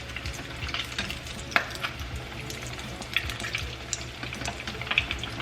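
Shrimp-stuffed crab cake poppers sizzle and crackle in hot frying oil, a quiet, steady bubbling with occasional sharp pops close by and no talking.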